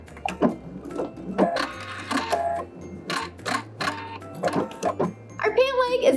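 A sewing machine stitches a heart patch onto the knee of a pair of jeans, its quick mechanical whirring running in short bursts beneath a voice talking throughout.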